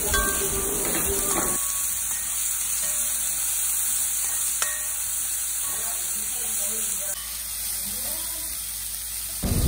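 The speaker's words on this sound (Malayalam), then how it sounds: "നമ്മൾ അരിഞ്ഞു വെച്ച ഉള്ളി ഇതിലേക്ക് ചേർത്ത് കൊടുത്തിട്ട് നന്നായി ഇളക്കി കൊടുക്ക" Chopped onions fry and get stirred in a hot pan, giving a steady broadband sizzle and hiss throughout, with a few faint scraping stirs and a brief sharp clink midway.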